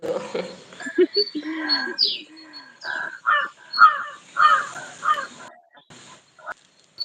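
Several crows caw in a ragged sequence, loud and fairly close, with other small birds chirping faintly behind them.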